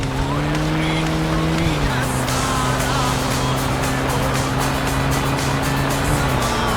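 Old 1980s BMW in the My Summer Car video game drives along with a steady, loud engine drone that holds one pitch, dips briefly, then settles, with faint talk underneath.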